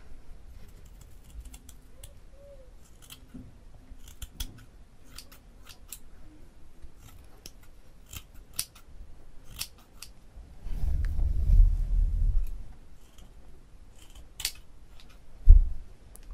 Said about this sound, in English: I'm going to just quickly brush it through here and get the ends, and I'm just going to cut them.